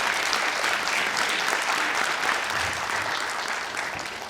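Loud, full audience applause in a Bhopal theatre hall for the lead actor of a stage play, a dense crowd clapping that holds steady and then slowly tapers off.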